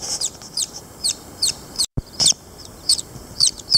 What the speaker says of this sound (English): Do you hear those hens, don't you?